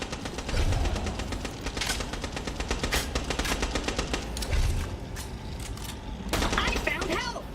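Rapid automatic gunfire from the video game Borderlands rattles in dense, repeated bursts across the whole stretch, loud and close, with brief pauses between volleys.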